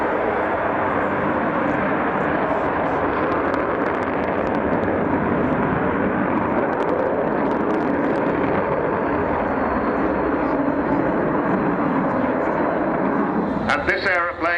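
An Avro Vulcan B2 bomber, XH558, flies at Waddington with a loud, continuous broadband engine roar that holds steady for the whole stretch, while a commentator speaks over it.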